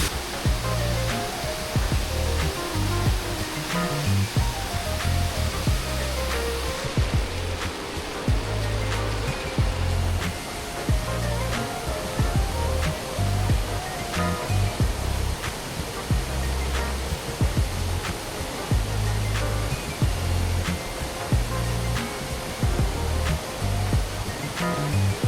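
Second falls of Waterfall Gully in Adelaide, a steady, loud rush of falling water with a broad roar that fills the scene throughout, with no talk.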